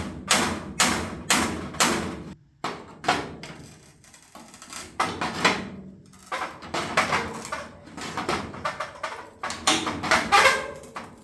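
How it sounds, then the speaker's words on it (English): A hammer beats dents out of a dented aluminum grill cover from a Chevy C20 pickup, with bursts of sharp, loud metallic blows in quick rhythmic runs, separated by short pauses. "So I tried my best to beat all the dents out of this grill"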